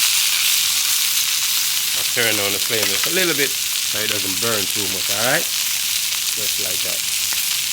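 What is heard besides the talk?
rib eye steak searing on cast iron outdoors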